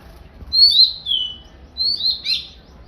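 A bird calls in a garden with clear, high sliding whistles, two bursts of chirping notes separated by a short pause, fairly near and alone against a hushed background.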